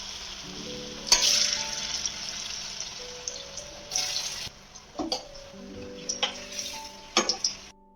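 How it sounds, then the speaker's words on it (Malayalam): Steady hiss of unnakaya, a banana snack, shallow frying in oil in a pan, close and continuous, with a few louder bursts of sizzle and tonal kitchen sounds layered over it. "And let's make this unnakka shallow fry."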